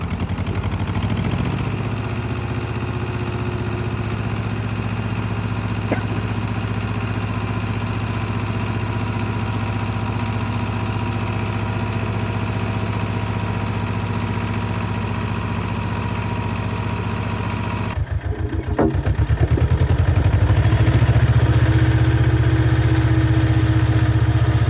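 Ursus C-330 tractor engine chugging steadily in first gear during a pull test, a close, even mechanical drone that shifts abruptly near the end into a louder, rougher run.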